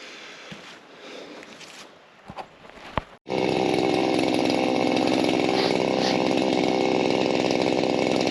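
Shindaiwa M230 multitool starts trimming during fall cleanup, its motor suddenly roaring to a steady, loud, high whine after a few seconds of quiet clicks and handling sounds.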